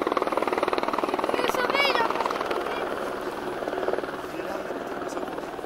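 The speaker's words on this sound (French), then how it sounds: "l'hélicoptère est venu nous chercher" A rescue helicopter arriving at a ski area in Châtel, its steady rotor chop and engine drone filling the air continuously at close range while people talk over it.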